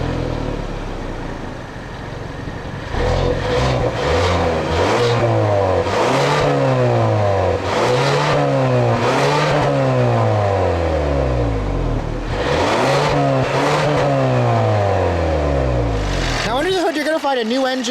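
A 2016 Kia Sorento SX-L's 2.0-liter turbocharged GDI direct-injection four-cylinder revs repeatedly, rising and falling in pitch through several loud, close bursts before cutting off near the end.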